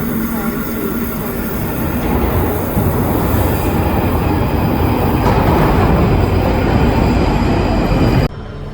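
Loud rumbling and clattering of a train in a London station, steady wheel noise and metallic squeals, with faint voices mixed in.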